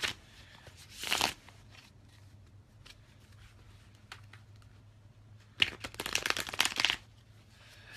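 Two quick bursts of cards being riffled and shuffled, a short one early and a longer flurry later, with quiet pauses between.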